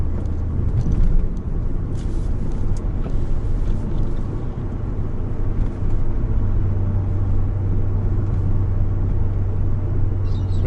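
A Mercedes E55 AMG drives at a slow, steady pace, its engine giving off a constant low rumble with a droning hum. The sound comes from inside the car and runs unbroken, with no talk over it.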